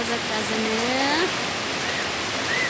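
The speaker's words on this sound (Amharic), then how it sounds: "አሁን ግን እግዚአብሔር ይመስገን እየዘነበልን ነው።" Heavy rain falls around an avocado tree in a yard, a broad steady wash of noise, while faint whistling tones and a voice drift in and out.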